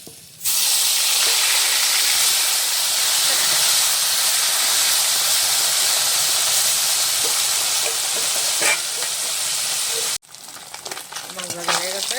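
Bata fish fry in hot oil with a loud, continuous sizzle that holds steady for about ten seconds, then drops off abruptly, leaving quieter kitchen noises.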